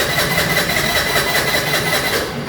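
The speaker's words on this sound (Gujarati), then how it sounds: "ગાડી ચાલુ નથી થતી." Activa scooter engine cranking and failing to catch, a steady mid-pitched mechanical churn with pulsing rhythm that runs close and loud throughout, fading slightly at the very end.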